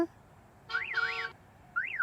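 A Tata Punch sounds its lock/unlock alert when triggered from a mobile app: faint electronic chirps that sweep up and down, a double warble followed after a short gap by a single one.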